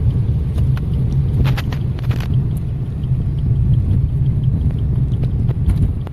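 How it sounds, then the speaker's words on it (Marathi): Steady engine rumble of vehicles on a highway toward Mahad beside a petrol pump, a loud continuous drone with occasional passing swells, no talk. "आता आपण हायवेवरती आहोत आणि हाच रोड सरळ महाडला जातो"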